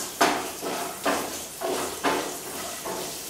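Sesame rice being stirred in a pan with a utensil: about five evenly spaced scraping strokes, each a soft rasping sweep that fades before the next, close and fairly clear with no voices.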